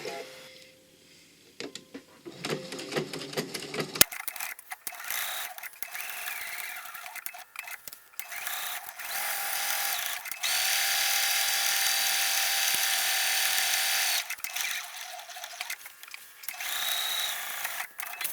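A sewing machine stitches around a dress collar interfaced with stabilizer on one side, running in steady whirring bursts with short pauses between seams and no talking.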